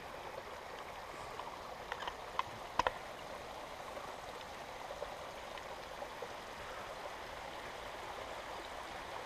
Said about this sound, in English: River Lockey.